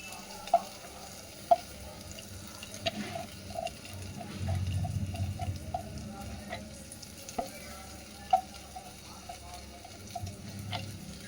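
Onions and chicken keema sauté in a pan over low to medium flame, a soft steady sizzle with occasional spatula taps and scrapes against the pan, close and fairly quiet.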